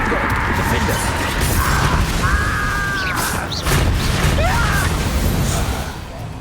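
A Confringo blasting spell bursts in a Hogwarts video game, a loud crashing explosion with whooshing and mechanical clatter, followed by a second impact midway, mixed with game sound effects and a speaking voice.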